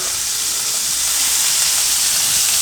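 Duck sizzles and spits steadily in overheated grease in a pan, a loud, continuous broadband frying hiss that holds unbroken from start to finish with no voices.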